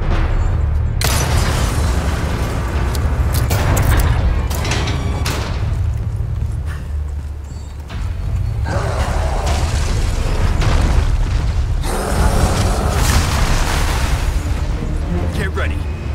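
Bazooka blasts and explosions from Resident Evil 4 Remake hit as several heavy booms with loud low-end rumble, spaced over a noisy, busy stretch, with occasional voices.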